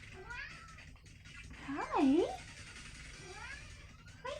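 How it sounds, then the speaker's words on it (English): A house cat meows in a few rising and falling calls, loudest in one clear cry midway, close by, while a person speaks softly over it. "I got distracted by the cat."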